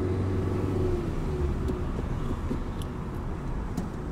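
A car pulls away and accelerates during a driving lesson. A steady, close engine rumble holds from start to finish, with a slight rise and a few faint clicks, and no talk.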